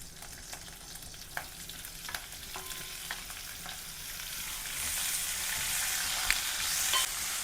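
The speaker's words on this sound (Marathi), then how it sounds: "त्यात हे चार आपले कच्चे टमॅटो मी बारीक चिरून घेतले ते टाकते" Finely chopped raw tomatoes frying in a pan for chutney give a steady, close, hissing sizzle with light stirring ticks, growing louder and denser in the second half, with no voices.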